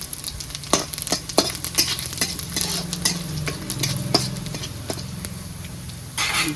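Steady sizzling of dry red chillies and whole cumin frying in oil with repeated sharp scrapes and clicks of a spoon stirring, close and continuous.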